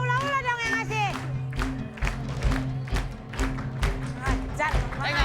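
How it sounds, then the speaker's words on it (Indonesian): Studio audience of an Indonesian comedy show claps in a dense burst with some cheering and thumps, while performers keep talking over it. "Tepuk tangan."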